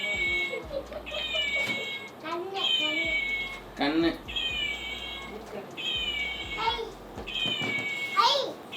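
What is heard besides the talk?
cat meowing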